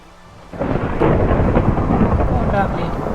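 Rain pours down steadily in a modded Minecraft game while thunder rumbles in, loud and close from about half a second onward.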